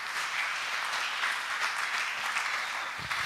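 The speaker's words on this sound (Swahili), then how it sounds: "Mpigie tena Yesu makofi mengi." Church congregation applauding, a dense continuous wash of clapping from many hands in a large room, steady and unbroken throughout.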